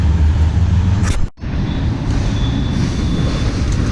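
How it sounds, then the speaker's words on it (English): A train passing nearby in an outdoor setting, heard as a steady loud rumble with a brief dropout, then continuing with a faint high squeal of wheels. "I hear the train a-coming."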